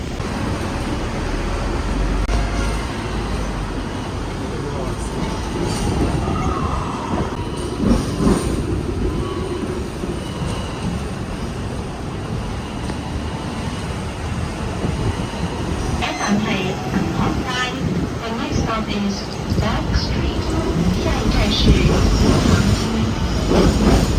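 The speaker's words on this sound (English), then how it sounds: "We're heading to the tram right now." Hong Kong's Peak Tram riding along its rails, a loud steady rumble of wheels and carriage with occasional rattles and squeaks, and voices talking faintly over it throughout.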